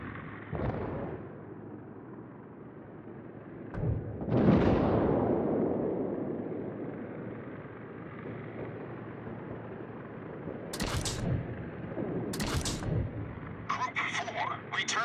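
Anti-aircraft fire bursts around carrier aircraft in World of Warships as the Japanese carrier Zuiho's planes come under attack: a few loud booming blasts and rumbles with sharper cracks near the end, with game radio voices heard.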